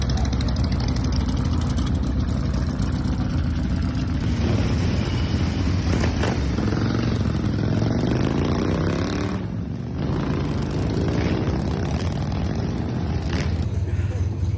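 A Shovelhead chopper motorcycle rumbles through a ride around San Francisco, its engine drone continuous and loud with heavy wind buffeting, and a voice speaks briefly over it.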